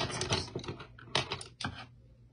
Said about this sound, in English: let's pick up some of these pencils